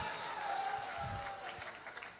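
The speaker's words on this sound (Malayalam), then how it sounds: "എല്ലാവരും ആത്മാർത്ഥമായിട്ടൊന്ന് കൈയടിച്ചേ" An audience at a live Malayalam comedy stage show claps in a soft, fairly distant burst of scattered applause, with a voice speaking briefly over it.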